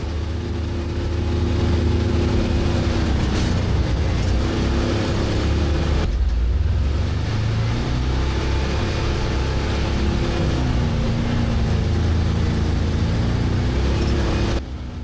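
A Russian tracked tank churns through rough, muddy terrain with a loud, continuous engine roar. The pitch shifts as the load changes, and a brief dip in the rumble comes around the middle.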